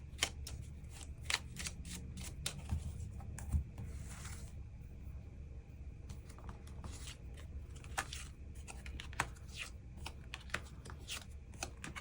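Tarot cards are shuffled and drawn by hand, soft close riffling and papery slaps in irregular bursts over a low, steady background hum, quiet throughout with no speech.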